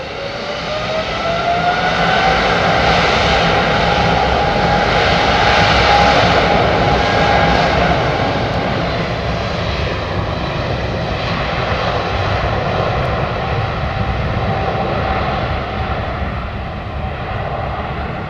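A Boeing 777 jet departs close by, its engines roaring loud and steady for the full stretch, with a rising whine climbing and then holding as broadband thunder fills the air throughout, no voices present.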